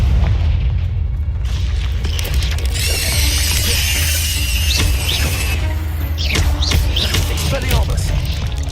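Confringo fire spell blasts in the video game Hogwarts Legacy, loud booming bursts with crackling magical effects over a busy battle din, and a voice calling out briefly.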